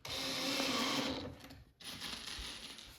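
A power driver whirs close by, driving pocket screws into wood for a farmhouse bench, one sustained run of about a second and a half followed by a short pause and a softer second burst.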